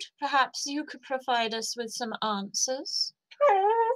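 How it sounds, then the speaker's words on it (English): A dog whimpers and yips in a high, wavering voice, woven in and out of a man's steady speech, near and fairly loud. "I do apologise, that's my dog."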